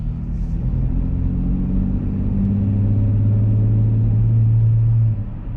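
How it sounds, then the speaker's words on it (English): A car fitted with a Pedal Commander throttle controller set to eco mode accelerates gently, its engine giving a steady low hum that climbs slightly in pitch and then drops off at the end. "So eco mode, give another little acceleration here."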